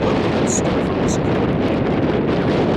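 Strong desert wind buffets the microphone in a loud, continuous roar that blankets everything, with a couple of faint high-pitched tones briefly showing through.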